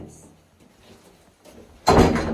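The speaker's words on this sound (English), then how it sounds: "Take this door, let it fall down." A door in a salt mine drops shut with one loud, heavy thud near the end, preceded by quiet background and faint voices.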